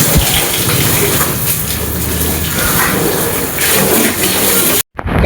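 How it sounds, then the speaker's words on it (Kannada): A hose pipe sprays water over dirty cars during a car wash, a loud, steady rushing gush close by that cuts off abruptly near the end. "ಈಗ ಪೈಪ್ಲೆ ನೀರು ಹಿಡಿದು ತೊಳೆಯೋಣ ಗಾಯ್ಸ್"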